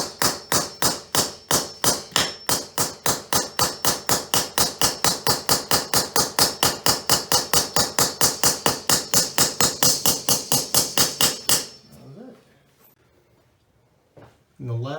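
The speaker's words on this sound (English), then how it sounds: "take the epoxy, roll the bolt in it, and hammer it into the hole." An epoxy-coated bolt is hammered into a hole in a bowing basement foundation wall, about forty rapid, even, sharp metallic blows that stop abruptly, followed by quiet and a couple of soft thumps.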